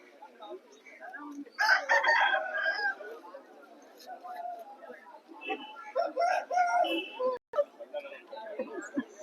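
A white peacock-coloured rooster of the Shalam breed crows at a Vijayawada market, a loud close crow followed by further calls and clucks amid faint background market noise.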